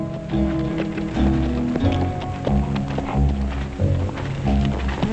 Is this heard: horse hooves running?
yes